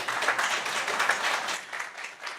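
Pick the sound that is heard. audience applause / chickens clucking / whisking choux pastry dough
audience applause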